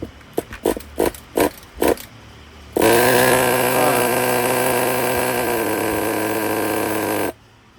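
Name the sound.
Traxxas Pro .15 nitro RC car engine starting and running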